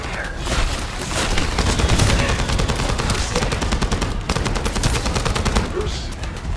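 Rapid bursts of automatic gunfire from a weapon in the shooter game The First Descendant, loud and sustained with dense repeated cracks and a few heavier booms over several seconds.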